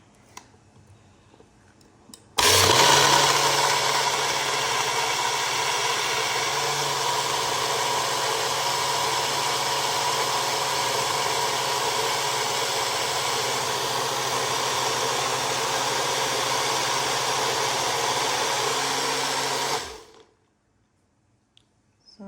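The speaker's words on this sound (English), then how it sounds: "put it in the machine for about maybe a couple minutes until my garlic is shredded" Blender shredding garlic for a spring roll sauce: a loud, steady motor whir starts abruptly, runs about seventeen seconds without change, then winds down and stops, nothing else heard.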